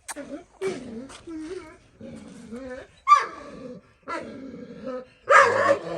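A large Kangal dog barks and growls in several loud, close bursts, with deep throaty calls separated by short pauses.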